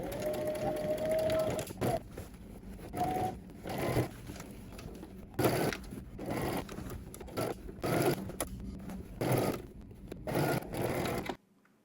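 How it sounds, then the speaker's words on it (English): A sewing machine stitches a waistband seam in fabric, running in several bursts of rapid whirring separated by short pauses, close and fairly loud. "we're going to head to the sewing machine. We're going to stitch using 5/8 of an inch seam allowance"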